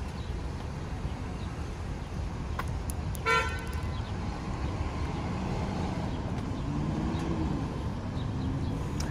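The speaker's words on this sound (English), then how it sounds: "There's a lot of traffic." Downtown Hartford, Connecticut street traffic: a steady wash of passing cars with one short horn toot about a third of the way in, heard at a moderate distance.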